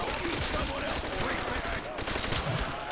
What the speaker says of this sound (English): Type 100 is a great gun.